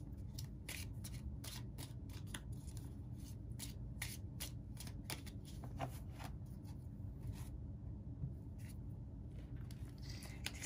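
Tarot cards shuffled by hand at close range, a quiet run of crisp riffling snaps and soft papery slides that repeats steadily without a break.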